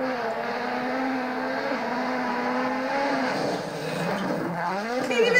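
A WRC rally car at Rally Finland 2021 roars past with a steady high engine note that shifts in pitch as it goes by, fairly loud and alone with no talk.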